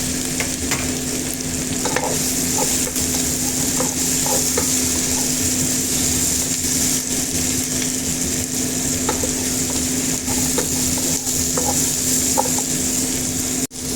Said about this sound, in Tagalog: ilagay po muna natin ang ating carrots kasi mas matagal po maluto ang carrots